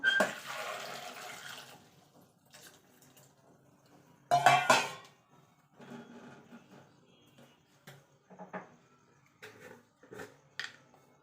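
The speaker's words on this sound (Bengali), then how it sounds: "এবার আমি জল দিয়ে দেবো" Water poured into a pressure cooker holding potatoes, a brief splashing gush at the start and another short burst midway, followed by scattered quiet clinks of the pot.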